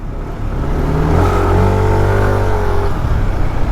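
Cars pass slowly in traffic on a narrow two-way road near a church, with a loud, close engine drone and steady rumble of vehicles going by.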